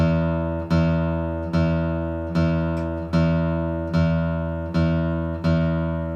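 A guitar string plucked with a pick for tuning about once a second, eight even notes each ringing out and decaying before the next, clear and close with no talking.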